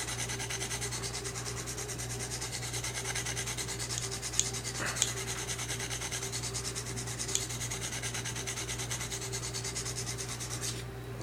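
The recurve edge of an S&W Black Ops knife being sharpened, a continuous soft rasping rub against a steady background hum, with a few faint ticks along the way.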